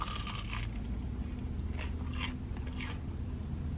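Fried cheese at a Cheesecake Factory table is bitten into with a few soft, close crunches and pulls over a steady low background hum.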